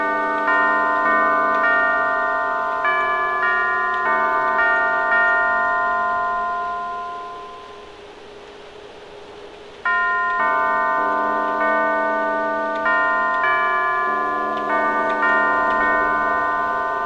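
A sequence of chiming bell notes plays a melodic tune to unseal a door in the video game Alice: Madness Returns. Clear, ringing tones ring out in two phrases separated by a brief lull, with no talk over them.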